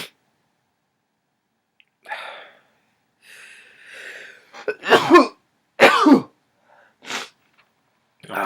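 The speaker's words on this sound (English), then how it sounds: "sorry, I had to sneeze." A person sneezes several times in quick succession, sharp loud bursts of breath at irregular intervals after a few quieter intakes and snuffles, heard close up with no talking.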